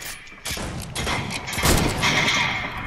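Sniper rifle shots ring out in a video game sniper challenge, several loud, sharp reports with crashing impacts over about three seconds, with no talk between them.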